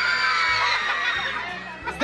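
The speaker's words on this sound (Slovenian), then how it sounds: "Zdaj mi pa že kričite." A crowd of children shouts loudly at an indoor festival show, a sustained mass of high voices with some squeals and laughter, close and continuous.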